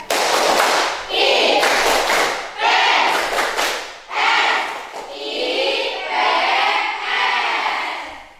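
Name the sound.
class doing the rhythmic IPS clapping chant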